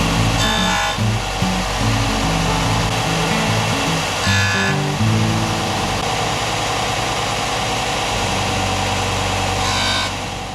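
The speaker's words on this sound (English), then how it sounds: "Now I'm going to move everything over to the disc sander" A disc sander cuts small facets into a grade 2 titanium ring, making a steady motor whine and hum with brief bursts of harsher grinding as the ring meets the disc, and no talk.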